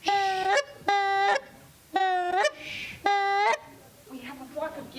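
A single goose honks in four loud, harsh bursts about a second apart, alone and close, followed by brief talk from a child.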